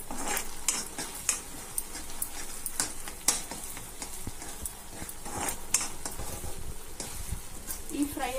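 Chicken Manchurian mixture being stirred in a pan after pepper and salt go in, with a steady sizzle under repeated scraping and clinking strokes of a spatula close by.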